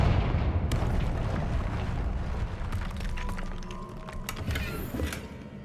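A Confringo fire spell explodes in the video game Hogwarts Legacy, producing a dense, rumbling blast with crackling bursts and pops that stays loud and close throughout.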